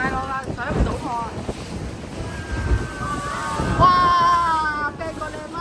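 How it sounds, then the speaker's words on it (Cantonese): Choppy seas and gusting wind buffet a small boat off Sai Kung's volcanic coast as a typhoon approaches, with steady wind rumble on the microphone, hull and wave noise, and scattered voices and a brief whistle-like tone. "今日大浪啦，上唔到岸"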